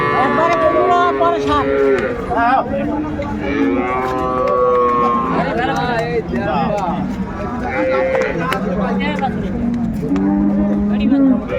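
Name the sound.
dairy cows and calves mooing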